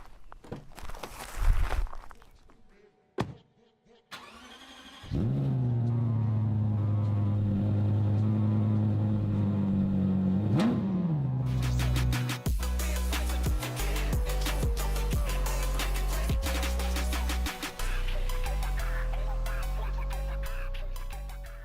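A Lexus LFA supercar with a Yamaha-made exhaust fires up after a few clicks and shuffles, settling into a deep close idle, then snaps through sharp high revs with crisp bursts and a rising wail.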